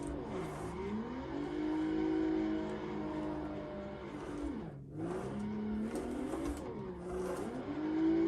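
Engine of a drifting car in the game Assetto Corsa, revs sweeping up and down with a sharp drop and quick rise around a clutch pop, a continuous loud whine with faint tire noise.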